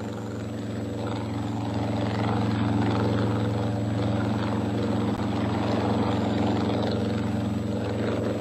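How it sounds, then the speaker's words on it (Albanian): Helicopters carrying emergency aid toward cut-off villages during the heavy 1985 winter in Kukës, heard as a steady, loud engine and rotor drone that holds throughout without pause. "Helikopterët, me ndihmat e nevojës së parë, shkojnë drejt fshatrave që kanë humbur çdo lidhje."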